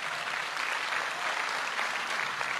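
A large audience claps for the Kenyan president at a formal speech, giving a dense, steady wash of applause that holds without a break from start to finish.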